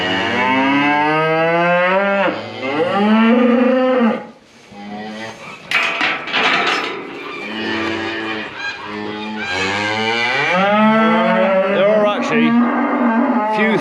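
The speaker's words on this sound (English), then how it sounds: "an angry cow bellowing right in your ear hole" Several loud, close bellows from an angry, protective cow during calf tagging, long harmonic moos repeating across the span with short breaks between them and no talk.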